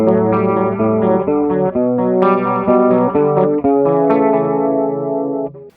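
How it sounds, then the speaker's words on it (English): An electric guitar runs through a chorus pedal placed after compressor, overdrive and distortion pedals, giving sustained, shimmering distorted chords and notes that ring steadily and loudly before cutting off at the end. "So now when we activate the chorus pedal, it sounds like this."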